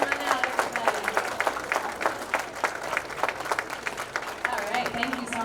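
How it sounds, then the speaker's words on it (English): Audience at a sixth-grade school winter concert applauding the percussion section, steady clapping with cheers and crowd murmur throughout, fairly moderate in level. "Give them a nice round of applause"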